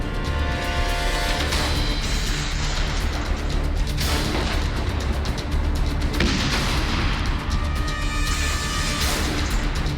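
Tanks and cannons fire artillery in Ukraine: heavy booms and bursts land in a dense, irregular series, loud and reverberant, with no voices.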